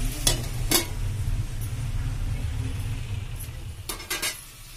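A spoon scrapes and clinks against a pan as pumpkin curry is stirred, with a few sharp metallic knocks over a low background hum and a faint sizzle.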